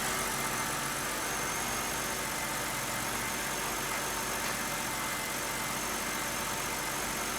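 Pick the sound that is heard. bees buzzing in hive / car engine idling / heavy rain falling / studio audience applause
car engine idling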